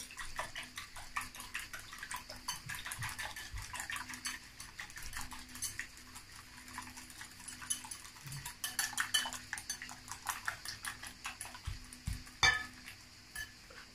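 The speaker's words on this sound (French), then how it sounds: "je bats mes œufs" Eggs are beaten by hand in a bowl for a savory cake, a fast run of light clinks and scrapes that carries on steadily, with a few louder knocks near the end and no talking.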